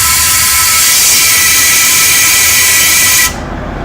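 Compressed air hisses steadily and loudly from a nozzle as it blows oil and muck out of a Nissan Navara transfer case, then cuts off abruptly near the end.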